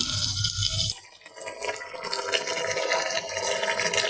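Soaked chana dal lentils being rinsed in water, a steady close splashing and sloshing of liquid that continues throughout after a brief louder burst at the start.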